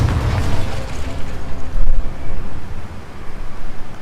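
Confringo blasting spell exploding against a training dummy in Hogwarts Legacy, a loud low rumbling blast with rolling, uneven surges of booming noise that gradually fade.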